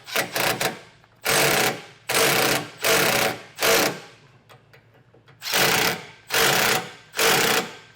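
A power drill drives self-tapping screws into a base plate in a series of loud, close bursts of about half a second each, separated by brief pauses.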